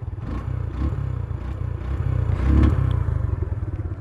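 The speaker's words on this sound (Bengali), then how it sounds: "জিক্সারের সাউন্ড হচ্ছে একটা অ্যাগ্রেসিভ ফিল পাওয়া যায়" An old-model Suzuki Gixxer motorcycle engine runs close by with a low throbbing, pulsing rumble that swells briefly as if revved, then settles back to a steady putter.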